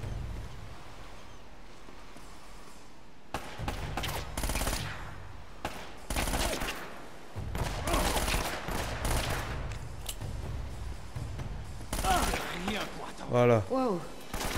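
Enemy gunfire in Uncharted: Drake's Fortune: bursts of automatic shots and loud reports come in clusters through the clip amid game noise, with a speaking voice over parts of it.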